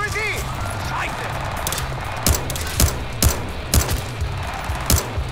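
Gunfire in Battlefield Hardline cracks out as a string of sharp, evenly spaced shots, loud and near, with voices talking over the action.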